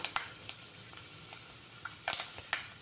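Fenugreek seeds dropped into hot oil after mustard seeds, with soft faint sizzling and sparse sharp pops and crackles scattered across the moment.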